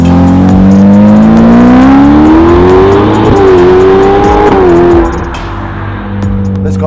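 A Novitec-tuned Ferrari F8 N-Largo with sport catalytic converters and a flap-actuated Novitec rear muffler revs loudly and close, its engine note climbing steadily in pitch, dipping and rising again, then dropping back to a lower idle-like rumble.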